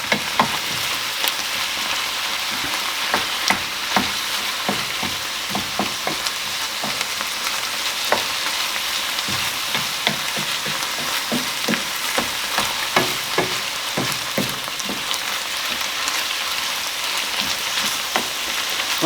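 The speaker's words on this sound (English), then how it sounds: "you could probably hear then the change in intensity of how the meat was reacting" Minced meat for lasagne sizzles and crackles steadily in a hot pan, a close, dense frying hiss with frequent pops and stirring scrapes throughout.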